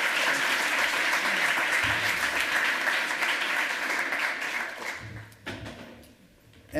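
Sustained audience applause after a lightning talk at the 28c3 hacker congress, loud and dense for about five seconds, then fading into scattered claps and room noise.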